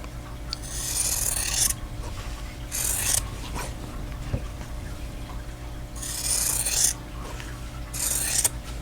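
Quilt block fabric pieces are trimmed close by, with short rasping cuts in bursts separated by pauses over a quiet background hum.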